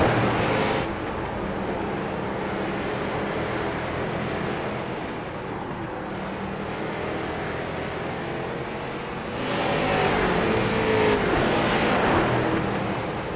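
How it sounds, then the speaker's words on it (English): Race cars circle the South Boston track in a steady, loud engine roar that swells near the end as cars pass close, with no talk. "If AJ can get into the top 5, they'll have 3 cars in the top 10."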